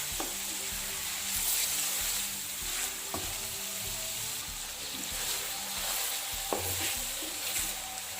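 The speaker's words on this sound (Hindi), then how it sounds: "ये देखें थोड़ा सा चिकन फ्राई हो गया है।" Chicken pieces sizzle steadily in hot oil in a pan for chicken pulao, a continuous close frying hiss with occasional stirring clicks and scrapes.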